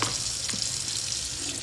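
Pork bones rinsed under a running kitchen tap in a sink, a steady close hiss of flowing water with faint clatter, alone and without talk.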